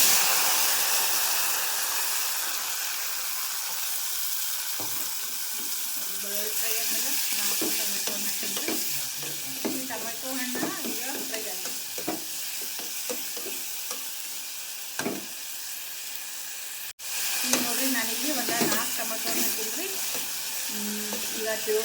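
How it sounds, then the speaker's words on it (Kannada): Chopped tomatoes fry in a little oil in a home kitchen, giving a steady, close hiss and sizzle, punctuated throughout by the scrapes and taps of stirring. "ಒಂದು ಸ್ವಲ್ಪ ಎಣ್ಣೆ ಒಳಗೆ ಫ್ರೈ ಆಗ್ಬೇಕು ಅಲ್ಲಿ ತನಕ ಫ್ರೈ ಮಾಡ್ಕೊತೀನಿ"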